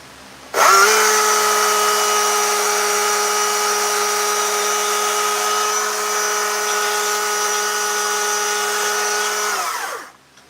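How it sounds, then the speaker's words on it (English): Stihl MSA 220 battery chainsaw on a fully charged AP 300 battery, running for about nine seconds with a loud, steady, high-pitched electric whine, then cutting off, with no talk. "fully charged AP 300 on an MSA 220. That's what we're running."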